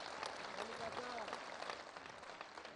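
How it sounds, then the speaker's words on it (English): A crowd at Barack Obama's homecoming in his Kenyan village of Kogelo breaks into applause, a faint, distant wash of clapping mixed with voices and crowd murmur. "Round of applause."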